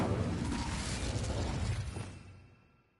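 Incendio fire spell cast in the video game Hogwarts Legacy: a loud, dense burst of fiery whooshing and crackle that holds steady for about two seconds, then fades away, with no talking over it.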